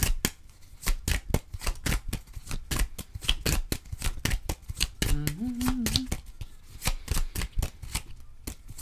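Oracle cards being shuffled by hand, a rapid rhythmic riffle of crisp paper slaps repeating close to the mic, with a brief tonal hum partway through and no talk.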